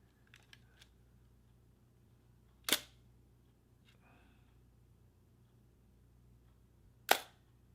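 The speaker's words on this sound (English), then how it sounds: "I'll show you what it sounds like without the mirror lockup." A Mamiya M645 1000s medium-format camera fires its shutter without mirror lockup, giving two sharp, close mechanical clacks several seconds apart, with faint handling clicks before them in an otherwise quiet room.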